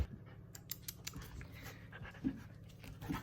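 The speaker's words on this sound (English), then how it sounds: "She's like a 4 or 5 month old puppy." A four- to five-month-old puppy pants quietly and steadily close by, a soft rhythmic huffing with a few small whimpers and light rustles.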